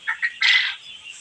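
Male quails calling in a short, close burst of shrill, buzzy chirps, two quick notes followed by a longer rasping call that fades out.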